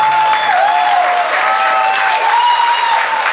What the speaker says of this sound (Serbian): Ajde, aplauz.